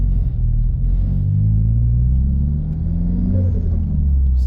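A car engine hums low and steady through a manual gear change into fifth, a continuous close rumble with a slight dip in revs partway through, no talking.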